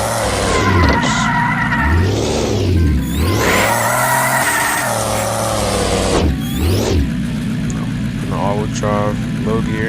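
A car in Offroad Outlaws revs and accelerates hard from a launch in low gear, its engine rising and falling loudly through repeated shifts with a constant roar.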